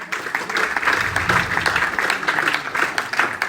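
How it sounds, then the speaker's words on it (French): An audience at a general assembly applauds steadily, with dense overlapping hand claps close by and moderately loud, rising and falling slightly for several seconds. "vous pouvez l'applaudir quand même"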